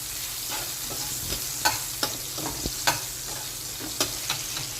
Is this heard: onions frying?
yes